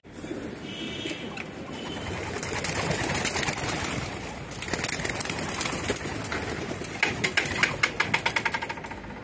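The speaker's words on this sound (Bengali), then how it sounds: "তো চলুন আগে কবুতরগুলো আমরা উড়াই দেখি ইনশাল্লাহ" Racing pigeons released from their loft in the morning take off together, a thick steady flutter of many wings with scattered coos and chirps, and a low engine idling faintly in the background.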